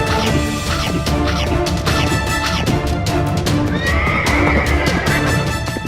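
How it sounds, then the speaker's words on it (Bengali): Cartoon horse neighing loudly over rapid galloping hooves, set against dense background music and effects in a fantasy adventure scene; the whinny rises clearly near the end. "রোহান অনেক জোরে জোরে ঘোড়া ছুটিয়ে ভালো দানবদের প্রাসাদের সামনে গেল।"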